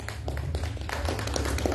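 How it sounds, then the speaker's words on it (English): The audience at a press conference claps as a board member is introduced. The applause is brief, dense and moderately loud, with scattered individual claps over a low room hum. "Keep the applause going."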